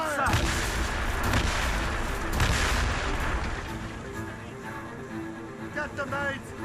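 Ship cannons boom repeatedly in a naval battle in Assassin's Creed Rogue, a dense run of heavy blasts and gunfire over the whole stretch, with voices shouting over the barrage.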